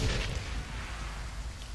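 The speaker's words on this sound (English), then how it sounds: "The explosion is deafening." Bomb detonation in the video game Shadowrun: Hong Kong, a loud low rumbling boom that decays into a sustained roar.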